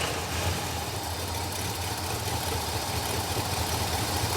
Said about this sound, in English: All right, just let her idle.